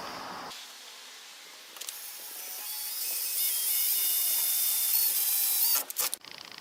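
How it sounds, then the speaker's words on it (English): A power drill fitted with a metal-cutting bit bores into metal to make a pilot hole for a screw, rising into a steady high whine that holds for several seconds before stopping with a short clatter at the end. "I'm going to use a drill bit that's designed to drill into metal"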